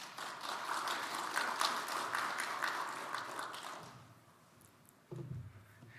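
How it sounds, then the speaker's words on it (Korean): A church congregation gives fairly quiet applause to welcome a missionary to the pulpit at a morning service. The clapping runs for about four seconds and then fades, followed by a brief low thump. "이제 선교사님 나오실 때 박수로 환영해 주시기 바랍니다"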